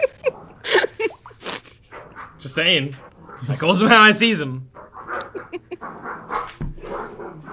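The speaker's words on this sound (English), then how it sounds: "That is an angry dog." Dog barking, yipping and whimpering at moderate distance, with a strained yelping burst in the middle, mixed in with people talking around a tabletop role-playing game session.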